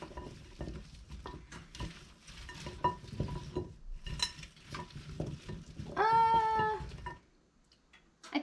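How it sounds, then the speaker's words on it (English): Gnocchi tossed with seasoning by hand in a small bowl, a run of soft clicks, rustles and scrapes against the bowl, with a brief ringing clatter of the dish near the end before it goes quiet. "Then go ahead and give it a toss with your hands."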